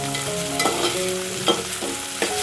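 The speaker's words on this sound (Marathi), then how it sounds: "छान टोमॅटो सुद्धा फिरवून घ्यायचंय." Tomato and onion fry in a pan with a steady, close sizzle while a spoon stirs them, scraping the pan in three distinct strokes.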